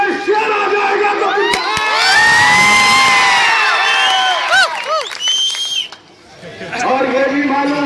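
A large, excited crowd cheers and shouts loudly and continuously, with voices rising and falling and a brief lull before the noise swells again.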